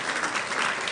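A hospital audience listening to a leadership address applauds briefly, a dense burst of many hands clapping together without any voices.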